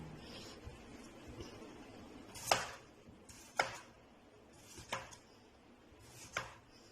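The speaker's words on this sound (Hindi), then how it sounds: "उसको छील कर हम इस तरह के स्लाइसिस में जो है वो काट रहे हैं।" A knife cuts peeled potato into slices on a board, four crisp separate chops spaced about a second apart over faint background noise, close and quiet.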